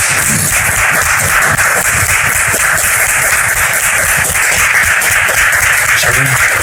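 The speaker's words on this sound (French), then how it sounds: "Merci de le recevoir sous vos applaudissements" Audience applause welcoming a guest onto a French-language talk show set, steady dense clapping filling the whole stretch at even loudness, with a few voices mixed in under it.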